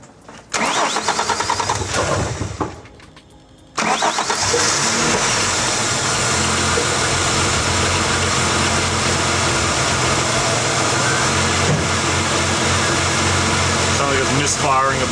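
A Ford Falcon AU ute engine, neglected and misfiring, cranks and catches on the second try after a brief pause, then settles into a loud, steady close idle with a slightly uneven beat, voices faintly present.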